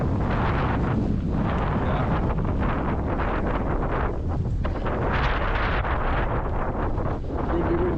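Strong wind sweeps across the Appalachian Trail and buffets the microphone with gusty, rumbling roars that swell and dip unevenly, loud and close, with no talking.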